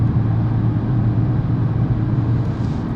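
A BMW M4 Competition's exhaust drones in a steady low rumble while driving, heard from inside the car as a constant, fairly loud engine hum with no talking.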